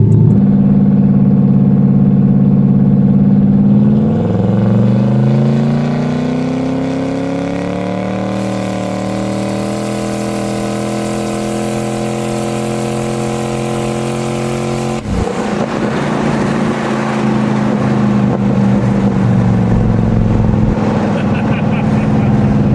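A turbocharged car running 13 psi of boost accelerates hard, the engine note climbing steadily through a long pull, then a sharp shift and renewed loud roar, heard from inside the cabin with people talking.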